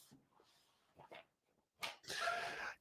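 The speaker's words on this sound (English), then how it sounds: "My dog is barking" A dog yelps and whimpers in short bursts, ending with a louder, harsher bark-like outburst, fairly close, with no talking.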